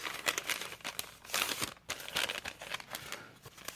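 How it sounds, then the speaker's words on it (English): A plastic bag folded over by hand, giving a run of crinkly, crackling rustles in several bursts, close and fairly loud with no talking. "I take the bag and I merely fold it over like this."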